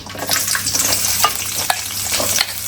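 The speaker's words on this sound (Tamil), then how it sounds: "கொஞ்சம் வெந்தயம் போட்டுக்கணும், அப்போதான் மீன் குழம்பு நல்லா மணமாக இருக்கும்." Fenugreek seeds frying in hot oil for a fish curry, a steady loud sizzle with light crackles and occasional spoon scrapes against the pan.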